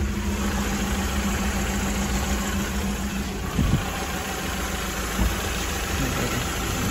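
A Suzuki Espass with a 1.3 engine, carburettor fed but run by an injection ECU, idles steadily at close range with a low, even hum and faint mechanical ticking, and there is no speech.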